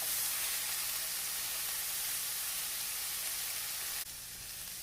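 Pineapple slices browning in a hot pan while being flipped over, giving a steady close broadband sizzle that holds evenly and then drops slightly in level toward the end.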